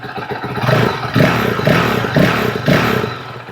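A 2024 Honda CRF dirt bike engine on a cool day of about 50 degrees, revved in four loud, close throttle blips over a rumbling idle, with no talking.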